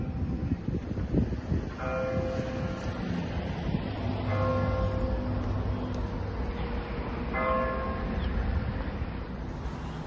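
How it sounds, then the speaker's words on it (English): Church bells ring in a slow repeating pattern, several strikes a couple of seconds apart, over a constant background rumble. "Church bells."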